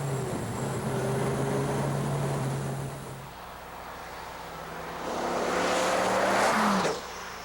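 A Viper sports car drives fast with a loud, steady engine drone that drops off midway, then surges again with a rising, rushing whoosh as it accelerates past before cutting away.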